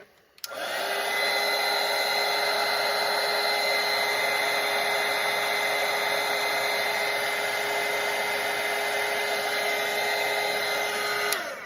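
A hair dryer blows steadily on a freshly painted watercolour, a loud, even whirring hum that starts abruptly and runs unbroken for about eleven seconds before cutting off.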